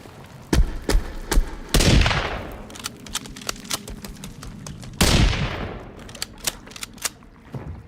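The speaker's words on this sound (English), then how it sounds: "We can use our rifle on him." Rifle shots in a survival video game set in a deadly forest: sharp loud cracks with echoing booming tails, two big blasts among scattered smaller pops and thuds.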